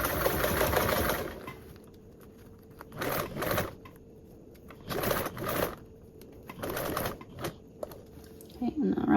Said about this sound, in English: on the straightaway, you can lengthen your stitch again.